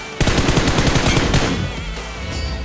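Automatic gunfire in the mobile battle royale game BGMI erupts in a loud rapid burst of shots lasting over a second, then trails off into an echoing tail with faint clatter, no talk.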